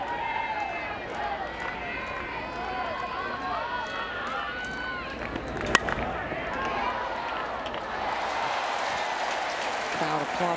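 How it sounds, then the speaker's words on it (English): A crowd at a women's college softball game, Auburn against Oklahoma in the World Series, applauds a terrific catch with sustained clapping and cheering, loud and dense throughout, with a single sharp knock midway. "Crowd applauding a terrific catch in the crowd."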